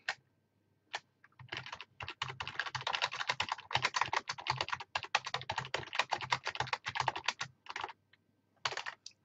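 Rapid keystrokes on a computer keyboard come in uneven bursts with short pauses, close and fairly quiet, with no talking.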